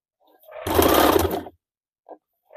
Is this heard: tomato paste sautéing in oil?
no